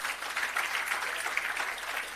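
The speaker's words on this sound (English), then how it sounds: "Can we give our High Commissioner a big round of applause?" Dense, faint applause from a crowd at an outdoor commissioning ceremony for an irrigation system and agro park, a continuous wash of many hands clapping, distant and even, with no talking.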